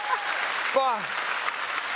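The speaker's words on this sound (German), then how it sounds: "Einen großen Applaus für Takam Bakshi." Audience applause at a live book-industry show on stage, a broad wash of clapping over which a voice exclaims briefly.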